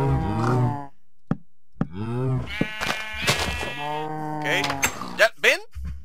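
Cows moo repeatedly in Minecraft, a handful of drawn-out, close, fairly loud calls with brief gaps, plus a couple of short knocks.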